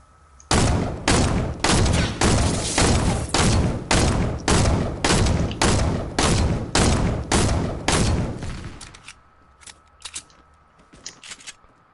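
Thermal assault rifle fire in the video game Fortnite: a loud, close run of about fourteen evenly spaced shots over roughly eight seconds, followed by a few faint, scattered clicks and quieter game sounds.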